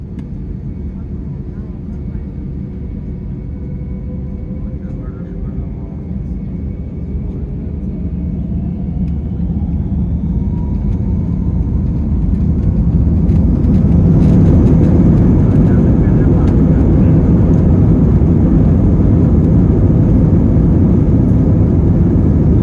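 Thai Smile airliner taxiing out at Bangkok, a steady low jet-engine rumble that swells louder midway, with a rising whine and a person talking over it throughout.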